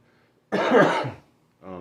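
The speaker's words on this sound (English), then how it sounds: "I'm still getting over this cough" A single harsh cough bursts out close by, followed a moment later by a shorter, softer cough-like exhale.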